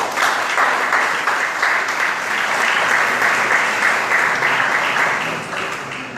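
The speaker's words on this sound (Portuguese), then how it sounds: "Eu gostaria que você recebesse com uma salva de palmas" A church congregation at a Sunday school gathering gives a round of applause welcoming pastor Jailton: loud, sustained clapping from a full room, steady throughout and easing off slightly at the end.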